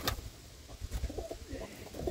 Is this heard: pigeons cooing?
yes